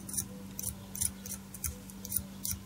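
A knife blade scrapes dried glue off a metal key in quick, rhythmic strokes, about six faint close scratches with a low steady hum underneath.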